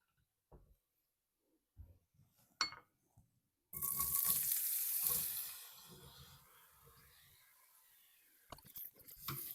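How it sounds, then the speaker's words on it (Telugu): Ridge gourd pieces drop into hot oil in a pan, where peanuts had just been fried, setting off a sudden loud sizzle that fades to a steady crackle, with soft clatter of utensils before and after and no speech. "ఇప్పుడు బీరకాయ ముక్కలు వేయాలి."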